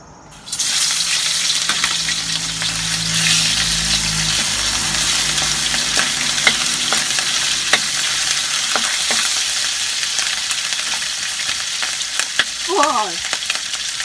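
Loud, steady sizzling of garlic frying in a hot pan, with occasional clinks and scrapes of stirring throughout.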